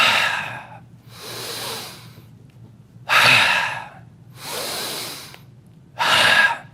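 Members of an audience take loud, audible deep breaths together, five broad airy bursts of inhaling and exhaling in a steady rhythm, strong and close, with no talking.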